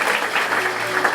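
A church congregation applauding and acclaiming, a continuous dense burst of clapping with some voices mixed in, loud and close.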